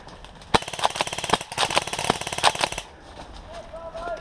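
Airsoft guns firing during a large national airsoft event, sharp rapid clicking shots in quick bursts close by, with voices around them, then a quieter stretch at the end.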